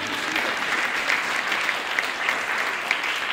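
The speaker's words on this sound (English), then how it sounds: "That deserves a round of applause." An audience at a school open day gives a round of applause, a thick, even wash of many hands clapping at moderate distance, steady throughout with no voices on top.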